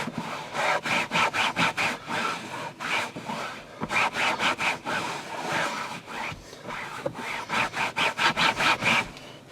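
A cloth or brush scrubs a fabric car seat to lift up all-purpose cleaner, giving bursts of quick, rhythmic rubbing strokes with brief pauses between them, close and fairly loud.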